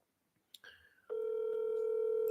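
A telephone line during a commercial real estate cold call: brief dialing blips, then a steady sustained tone that holds loud and unbroken to the end.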